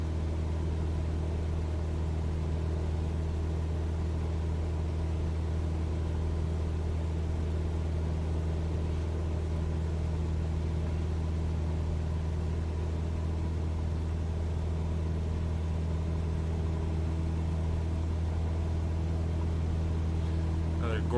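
A Cessna 172 engine at 2400 RPM in a flight simulator game drones steadily with a constant, even hum and no change in pitch. A voice speaks over it.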